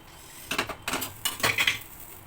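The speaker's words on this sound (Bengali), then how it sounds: "তার জন্য কড়াইটা একটু পরিষ্কার করে ধুয়ে নিলাম।" A kadai wok washed after cooking potato curry, a handful of short metallic scrapes and clanks in an uneven cluster, close and fairly soft, with no talk.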